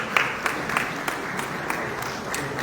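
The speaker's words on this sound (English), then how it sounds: "Round of applause to Next Green Global Berhad" Audience applauding at an award presentation during an oil palm biomass conference, a steady even patter of many hands clapping at moderate distance, with faint talk underneath.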